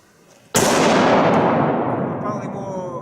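A single loud, close gunshot during shooting practice, a sharp crack followed by a long rolling echo that fades slowly over a few seconds.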